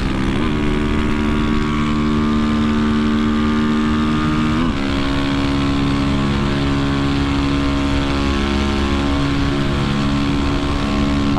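A Honda CBX 250 Twister motorcycle engine drones steadily and loudly throughout, with a brief dip and rise in revs partway through as the bike rides on.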